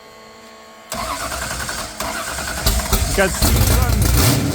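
A Ford GT40 replica's engine cranks and fires on its first start, then idles roughly and is revved in rising blips. The sound is loud and close, and people talk and exclaim over it.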